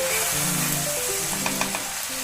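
Onions frying in a pan for chicken kosha, a loud continuous sizzle close by, with the scrape and clatter of stirring breaking through toward the end.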